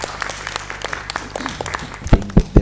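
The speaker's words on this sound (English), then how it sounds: "the people are speaking with their claps." Audience applause at an East African internet governance conference, a light scattered patter of clapping that swells into a few louder, close claps near the end.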